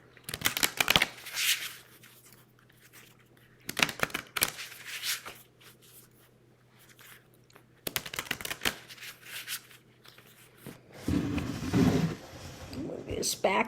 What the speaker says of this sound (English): Let's get them shuffled here